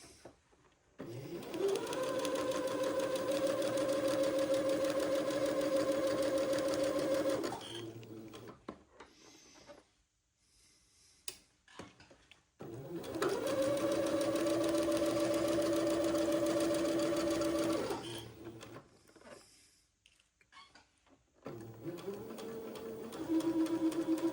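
A sewing machine runs in two long steady bursts of stitching along a French seam, with a quiet pause between them and a third run starting near the end, close and loud, with no talk.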